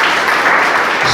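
Loud, dense applause from a church congregation, many hands clapping together in a close, sustained roar.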